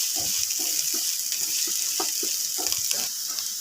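Two chopped onions fry in a pan as they are stirred, giving a steady close sizzling hiss dotted with small crackles and soft scraping.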